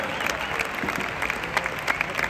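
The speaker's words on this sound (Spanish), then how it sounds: "fuerte aplauso para Beatriz Ferrer Sala" Crowd applause at the Madrid Horse Week World Cup freestyle dressage for rider Beatriz Ferrer Sala, a broad steady wash of many hands clapping in a large arena, with sharper individual claps popping through.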